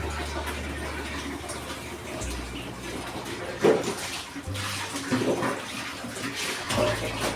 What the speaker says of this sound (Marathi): इथे मी तेल घालते आता फोडणीसाठी.